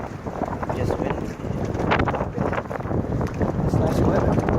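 Wind gusting steadily across an open pedal boat on the Potomac River, a continuous loud rushing buffet with broadband roar throughout, rising and falling slightly, with no clear speech over it.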